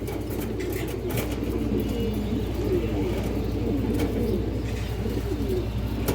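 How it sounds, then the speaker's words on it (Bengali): Pigeons coo in low, throaty rolling phrases close by, with a female full-boot-footed pigeon among the birds, over a steady background hum and a few faint clicks. "এটা দর্শক 3 নম্বর মাদি কবুতর।"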